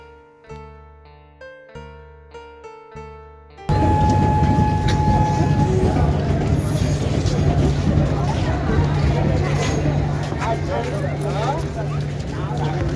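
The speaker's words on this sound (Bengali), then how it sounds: "একটি প্যাসেঞ্জার ট্রেন ছেড়ে যাচ্ছে আর এদিকে রয়েছে রূপসী বাংলা এক্সপ্রেস" At Garbeta station, the Rupasi Bangla Express passenger train rumbles and clatters steadily, loud and close, with a sustained tone and faint crowd chatter, after a few seconds of plucked musical notes.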